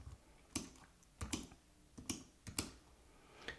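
Sparse, quiet keystrokes on a computer keyboard, five or six separate taps spaced roughly half a second apart against a faint background, with no speech.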